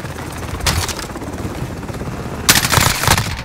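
Automatic weapons fire in Call of Duty Modern Warfare during a team deathmatch, with two loud rapid bursts of shots separated by quieter background game noise.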